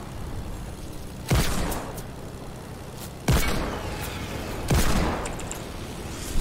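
Enemy gunfire in a Fortnite Battle Royale duo match: three separate bursts of rapid shots, each cracking in sharply and tailing off, fairly distant and moderately loud, with no talk over them.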